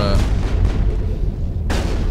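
Gunfire and booming blasts from the video game Mass Effect, a dense continuous barrage of shots and rumbling impacts that briefly dips, then surges loudly again.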